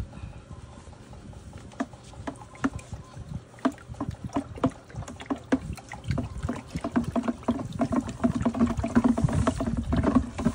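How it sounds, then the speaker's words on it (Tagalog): Soda ash, one kilo, being stirred into ten liters of water while mixing homemade bleach: irregular sloshing and splashing with knocks against the container, growing busier and louder toward the end, with no talk. "ilagay na po natin ang soda ash na 1 kilo dito sa 10 liters na tubig."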